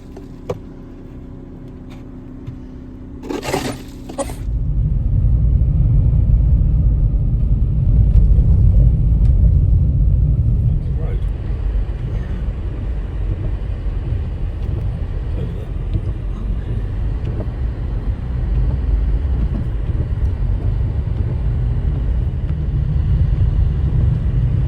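A car engine runs steadily on a long drive over snowy roads near Akureyri, Iceland, a loud continuous low rumble and road noise that starts after a brief click and persists throughout.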